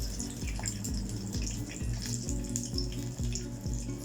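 Chicken donuts shallow-fry in a half depth of oil in a small pan, giving a loud, steady crackling sizzle with a regular pulsing rhythm and no talking.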